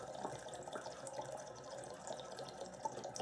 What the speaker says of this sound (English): As you fill up the keg,